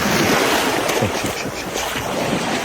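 Sea waves wash onto a beach at Tetouan, Morocco, with a continuous close rushing surf and breaking water, mixed with wind buffeting the microphone across the short stretch.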